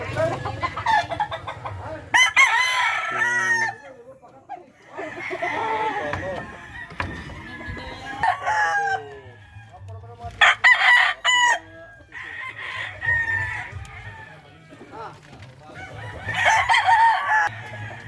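Chickens cluck and a rooster crows repeatedly on a backyard farm, several crows rising loud and close, while a person talks intermittently between them.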